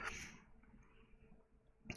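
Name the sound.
sneeze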